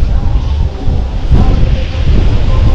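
Steady wind blowing at a seashore at mid-tide with small waves, a continuous low rumbling gust noise filling the microphone, loud and close throughout with no clear talk.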